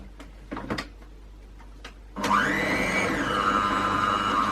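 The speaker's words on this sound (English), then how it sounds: "we're going to mix this lot together until they are light and fluffy" An electric mixer beats butter and caster sugar for gluten, lactose and yeast free Christmas mincemeat shortbread, starting suddenly after a few light clicks and whirring loud and steady until the end, its pitch shifting as the mixture lightens.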